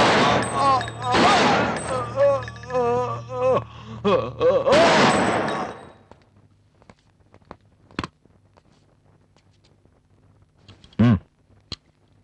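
Gunfire in a Tamil crime movie scene: after a tense stretch of loud dialogue, a few sharp isolated shots ring out, with one heavier blast near the end, separated by quiet pauses.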